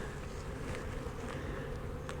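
Honey bees drone in a hive during a spring beekeeping inspection, a continuous low buzzing hum that stays faint and even throughout.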